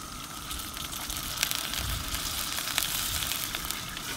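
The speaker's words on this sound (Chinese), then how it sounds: "先是用油煎，煎到底上有微糊，" Potstickers sizzle in oil in a pan after water has been added, giving a steady, close hiss and crackle throughout, with brief louder spits and no voices over it.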